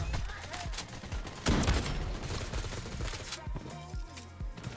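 Rapid gunfire in the video game Bloodstrike, bursts of sharp shots crackling through a busy firefight with a loud volley near the middle, heard close under the player's chatter.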